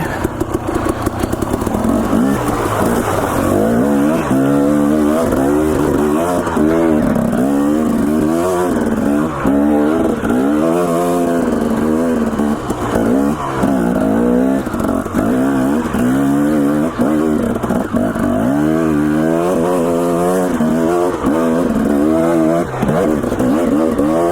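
A dirt bike riding a wooded trail, its engine loud and close throughout, revving up and down in repeated surges as it climbs and shifts, with rattling clatter over rough ground.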